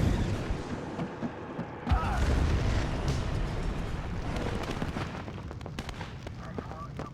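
A Bradley fighting vehicle in the WARNO strategy game fires on an enemy infantry fighting vehicle, with a heavy boom followed by rumbling battle noise and scattered impacts throughout.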